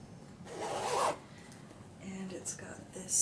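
A zipper with a charm rasps open in one quick pull, followed by softer rustling and small clicks as it is handled up close.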